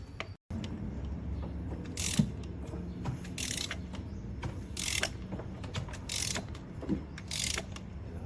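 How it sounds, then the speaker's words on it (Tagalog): A ratchet wrench clicks in quick repeated bursts while loosening very tight, thread-locked screws from the timing belt cover of a Ford Ranger Raptor, close and mechanical with short pauses between pulls. "Pagtanggal doon ng tornilyo sa cover, napakahirap tanggalin"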